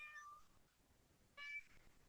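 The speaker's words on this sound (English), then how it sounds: "I don't know if you can hear my cat." A cat meows twice, a drawn-out meow followed after a pause by a second, both faint and somewhat distant in a quiet room.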